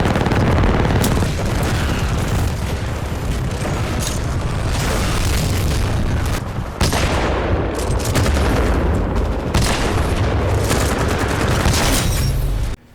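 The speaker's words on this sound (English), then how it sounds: "The gun sounds were... I just love how deadly and amazing they sound." Loud, dense gunfire from the shooter game Titanfall 2: heavy booming shots and rapid bursts play nearly continuously for about thirteen seconds, with brief pauses between volleys and no talking.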